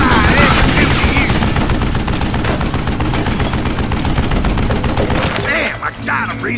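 Rapid gunfire from the Western shooter Call of Juarez: Gunslinger, a loud, continuous barrage of shots that runs nearly the whole time, then breaks off near the end.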